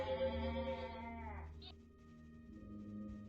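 Sheep bleat in the Raid Shadow Legends video game, a wavering harmonic cry in the first second and a half, followed by a short electronic chime over steady game background sound.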